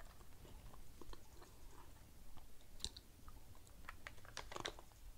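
Nuts from a snack box being chewed, with faint crunching and crackling bites close to the mouth, growing slightly sharper toward the end, no talk.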